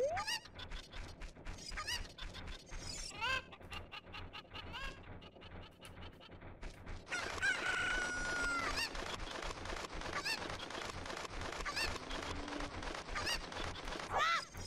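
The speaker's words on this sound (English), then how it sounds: "I can get that chicken at least." Squawking chicken (cucco) calls in The Legend of Zelda: Ocarina of Time, repeated clucks and honks over game music and effects, growing denser and louder in the second half with no talking.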